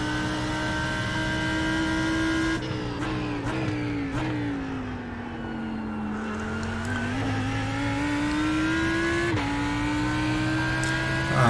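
A Lamborghini Huracán GT3 Evo race engine at Sebring in iRacing drones loud and close, its pitch sagging and climbing through gear changes and corners, with brief shifts and no voices.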